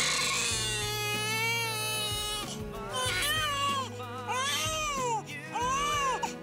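A newborn baby cries loudly and continuously in a hospital care setting, wailing in repeated rising and falling bursts close to the listener, with faint adult voices beneath.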